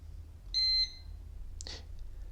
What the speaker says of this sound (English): Press on this power button during half of a second until you hear a beep